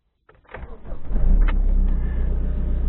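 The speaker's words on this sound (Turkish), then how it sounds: "Şimdi arabayı 5 dakika çalıştıracağım." A car engine cranks and catches after a short silence, then settles into a steady, loud low rumble as it idles, close by with no talk.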